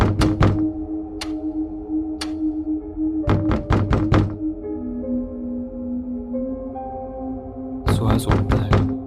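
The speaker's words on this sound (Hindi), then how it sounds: "कोई तो ऐसा है जो लगातार दरवाजा खटखटा रहा है।" Repeated knocking on a door at night in an animated horror story, sharp raps in quick clusters and single strikes over a low sustained music drone.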